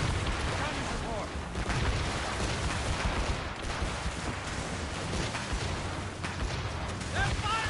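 Cannon volleys in the Assassin's Creed Rogue video game, a dense, continuous barrage of booming artillery rumble rolling along without pause, with faint game voices mixed beneath the gunfire.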